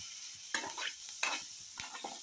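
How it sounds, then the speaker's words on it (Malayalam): Carrots being stirred in a hot pan, a few close scraping spoon strokes with a light sizzle underneath, spaced out in quick bursts. "ക്യാരറ്റ് നന്നായിട്ട് വെന്ത് വരുന്നത് വരെ നമുക്ക് നന്നായിട്ട് ഇളക്കി കൊടുക്കണം"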